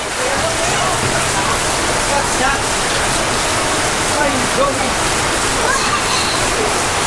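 Heavy tropical rain pours down in Naga City, Philippines, a loud, dense, steady roar of water hitting surfaces with no break, close and enveloping.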